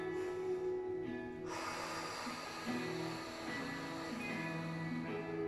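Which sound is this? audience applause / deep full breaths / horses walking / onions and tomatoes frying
deep full breaths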